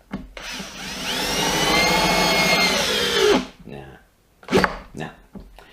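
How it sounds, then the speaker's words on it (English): A power drill driving a small single-thread wood screw whirs steadily for about three seconds, winding down abruptly, followed by a few short bursts of nearby talk. "this drill is too powerful for its own good when it comes to the smaller screws"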